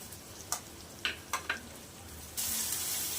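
Chopped tomatoes go into a pan of frying onions for a mussel curry: a few soft clicks and taps, then a sudden bright sizzle that stays loud and steady to the end.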